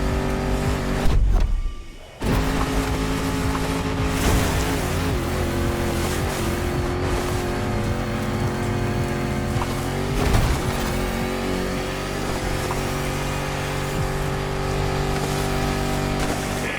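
A Land Rover Defender with 400 horsepower, driven in The Crew Motorfest racing game, gives a loud, steady engine drone with a brief dip near the start before running on continuously.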